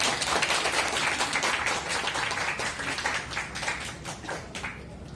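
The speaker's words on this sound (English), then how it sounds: "Let's give him a huge round of applause." An audience at a corporate event gives a round of applause, dense steady clapping from many hands that holds strong before tapering slightly toward the end.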